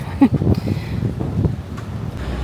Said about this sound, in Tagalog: Ang hangin, ang lamig.